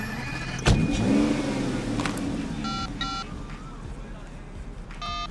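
A car in the video game Sleeping Dogs slams shut and starts up, its engine rising as it pulls away, with electronic game beeps and tones chiming over the motor.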